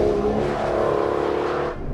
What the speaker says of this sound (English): I think the first thing you hear is just the speed of the gear shifts.